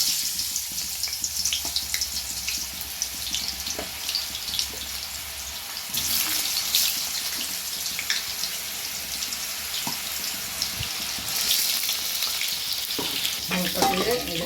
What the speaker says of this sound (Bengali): এটা একটু হালকা তেলের মধ্যে একটু ফ্রাই করে নিতে হবে